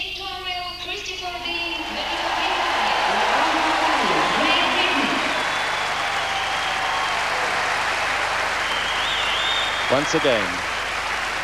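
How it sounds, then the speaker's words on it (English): Crowd applause and cheering for Olympic ice dance medallists Torvill and Dean at a medal ceremony, a broad sustained roar filling the arena, with an announcer's voice speaking over the start. "Jane and Chris receive the plaudits of the crowd"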